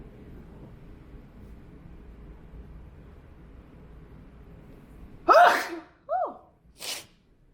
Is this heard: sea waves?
no